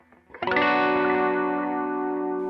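A single electric guitar chord rings out with a delay effect through a slightly dirty AC30 amp, sustaining and slowly fading as echoed repeats blend into the tail.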